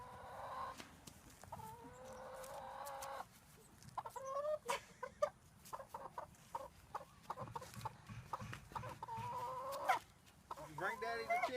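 Chickens cluck in bursts, close and fairly loud, with other farm-animal noises and some background murmur around them.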